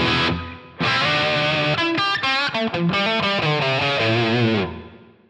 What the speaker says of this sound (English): Now, that doesn't sound like much reverb since we were listening to a very overt reverb a moment ago.